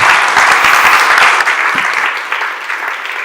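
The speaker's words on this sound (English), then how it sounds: "Please, a huge round of applause for our panel." Loud, close applause from a conference audience for a panel on financial instruments, dense clapping that starts strong and gradually tapers over a few seconds.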